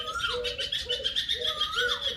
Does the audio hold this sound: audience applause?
no